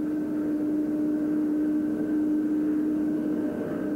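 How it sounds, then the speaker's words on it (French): A Boeing 777 airliner loaded with its first passengers taxis slowly toward the runway, its engines giving a steady, moderately loud hum with a sustained tonal whine over a low rumble throughout. "le 777, chargé de ses premiers passagers, roule lentement vers la piste"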